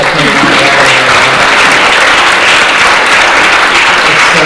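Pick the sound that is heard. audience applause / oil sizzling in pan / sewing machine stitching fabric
audience applause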